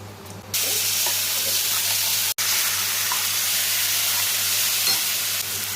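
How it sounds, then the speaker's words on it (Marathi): Whole garam masala, black pepper, cinnamon, cloves, bay leaf and dried chilli frying in hot oil, a steady loud sizzle from just after the start with one brief cut midway, no talk over it. "थोडंसं फ्राय करायचं. तेल सुटेपर्यंत 2-3 मिनिटं ठेवायचं."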